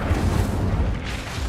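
A fire spell blast in Hogwarts Legacy, a loud, dense roaring whoosh of flame with heavy low rumble that holds steady for about a second and a half, no voices over it.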